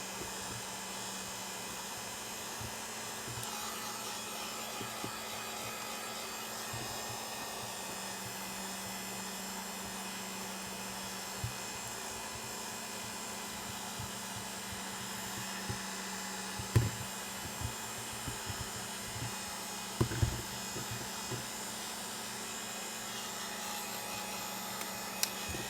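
A heat gun or hair-dryer-style blower runs steadily while warming a Garmin device's front screen to loosen the glass, a constant close whir with a few faint clicks and bumps and no talking.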